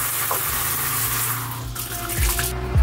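Water runs steadily from a recirculating shower in a van, a continuous close hiss and spatter with a few faint knocks and squeaks near the end.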